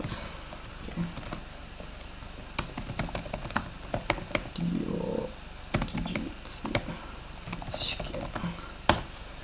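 Keys on a computer keyboard click in scattered, uneven bursts while a person talks over them nearby.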